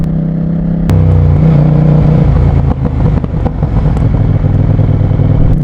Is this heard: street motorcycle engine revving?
yes